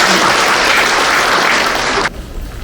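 Audience applause at a regular general meeting of a Seoul association branch, held in a hometown hall: steady, dense clapping that fills the room for about two seconds and then cuts off abruptly.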